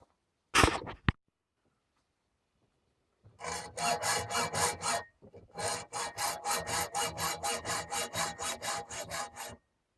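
A hacksaw cuts a triangle out of a metal mounting bracket held in a vise, working in quick, regular back-and-forth strokes after one sharp knock. The strokes pause briefly and then run on steadily at close range.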